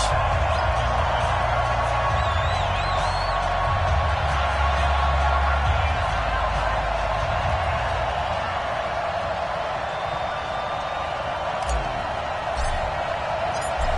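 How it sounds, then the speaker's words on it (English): Stadium crowd noise from an NFL football video game with the Minnesota Vikings facing the Philadelphia Eagles, a steady loud roar and murmur running continuously throughout, with a game commentator talking over it. "This crowd is ready as their guys get set to match up"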